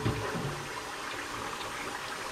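Cold tap water pours steadily over freshly cooked pasta, a continuous close rushing and splashing with no pauses.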